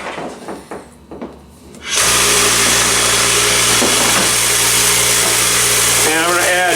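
A Lot-O vibratory rock tumbler with its barrel switches on after a few seconds of handling noises and then runs as a loud, continuous buzzing rattle with a steady low hum.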